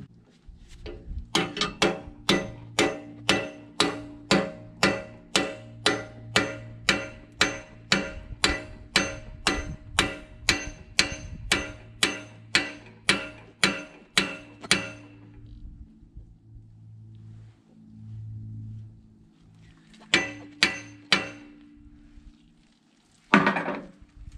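A hammer strikes metal repeatedly on an old Massey Ferguson backhoe in a steady, ringing rhythm for about fifteen seconds, then a few more clanging blows after a pause.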